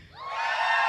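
An audience at the AMA 16 opening ceremonies screams and cheers, the crowd noise swelling quickly from quiet to a loud, sustained roar in under a second.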